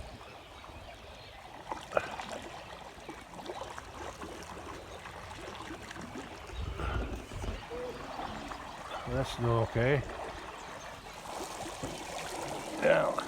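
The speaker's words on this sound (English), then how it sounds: "water's pumping through that culvert now" Floodwater rushes through a pasture culvert after rain, a continuous outdoor trickling and gushing under a voice, with bird calls chirping in the middle and toward the end.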